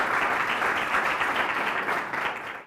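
An audience claps loudly and evenly in a thick, sustained round of applause to welcome a panelist at a school panel discussion on higher education.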